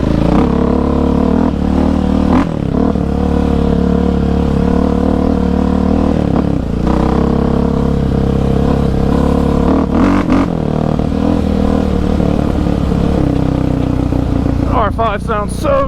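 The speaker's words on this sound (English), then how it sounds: "the Fuel Customs intake is like super throaty to match it" A Yamaha Raptor 700 ATV with a Fuel Customs intake and stage 3 setup roars steadily and loud while four-wheeling a rough trail at Iron Mountain Park, throttle rising and dipping with brief clattering at the end.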